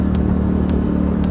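A truck's engine rumbles steadily on a winding mountain ghat road in Chhattisgarh, a loud, close, continuous drone with no voices.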